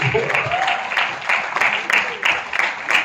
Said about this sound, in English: let's have a huge round of applause for All the parents